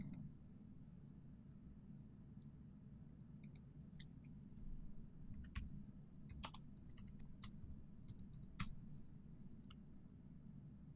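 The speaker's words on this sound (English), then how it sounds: "Once I've typed my reply" Someone types a reply on a computer keyboard, producing irregular bursts of light key clicks over a low steady hum, with no one talking.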